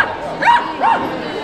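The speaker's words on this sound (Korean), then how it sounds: "강아지 여기 있어요." A small dog gives two short, yipping barks in a busy pet show hall, close by, with people talking around it.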